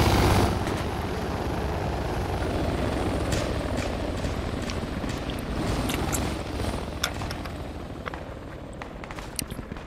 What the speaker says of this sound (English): Sounds like they landed the chopper right in the compound.